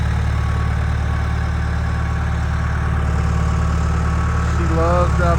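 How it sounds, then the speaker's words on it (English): A backhoe's engine runs steadily nearby, a loud continuous rumble that holds at an even level throughout, rising slightly near the end. "She loves driving that backhoe."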